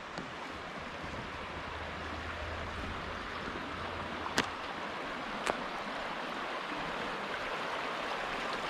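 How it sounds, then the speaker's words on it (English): A creek in Mill Creek Park, Youngstown, Ohio, flows with a steady broadband rush of water, close and continuous, with two brief sharp clicks partway through. "Want to walk by the creek here?"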